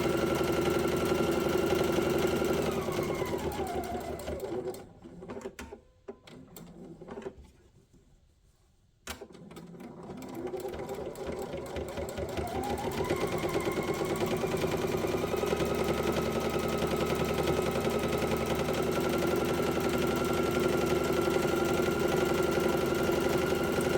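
A sewing machine stitches a fabric book wrap, whirring in steady bursts that slow and stop briefly at a corner with a few clicks, then start up again and run on continuously.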